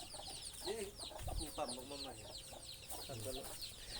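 Young chickens clucking and peeping close by on a rural Thai farm, a scatter of short chirps and clucks with someone talking over them.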